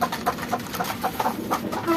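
Chickens cluck in quick, repeated bursts close by, a busy overlapping chatter with a steady background hum, during hot, rainy weather.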